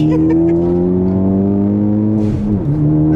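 A 2015 Ford Focus ST hatchback engine holds a steady, strong drone under sustained throttle through a turn, its pitch dipping briefly near the end before picking back up. Close and loud, no talking.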